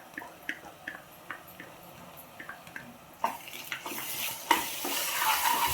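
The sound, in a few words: ginger garlic paste frying in pan for aloo kurma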